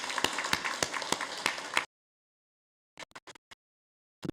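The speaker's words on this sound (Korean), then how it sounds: "기증해 주신 분들께 감사의 박수 보내겠습니다" Congregation applause at a church service, a burst of clapping with distinct sharp claps that stops abruptly, followed by near silence and a few scattered isolated claps afterward.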